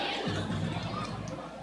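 Crowd of Guarani football supporters in a stadium, a steady broad roar of massed voices and babble lasting throughout.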